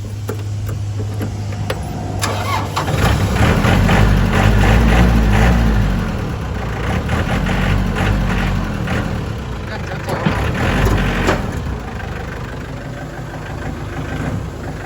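A 51 hp Yanmar farm tractor from 2018 with about 1,600 hours starts and settles into a steady, loud diesel idle with a ticking rhythm, while someone talks over it.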